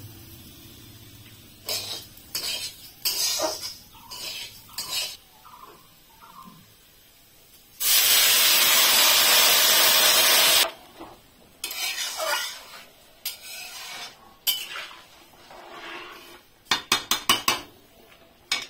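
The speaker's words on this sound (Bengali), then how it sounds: "এবার এর মধ্যে দিয়ে দেবো জলটা" Hot water is poured into a pot of fried rice in one loud, steady gush lasting a few seconds, with utensil clinks and stirring scrapes against the pot before and after.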